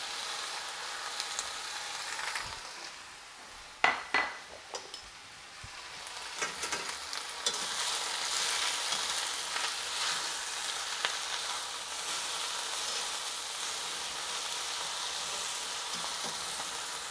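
Spinach and green beans sauté in a pan with a soft, steady sizzle. A few stirring clatters come early, then the hiss swells and holds, close and fairly quiet.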